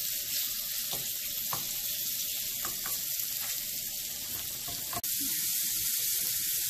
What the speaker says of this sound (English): things are getting browned down. All the spices are sticking with the flour onto the meat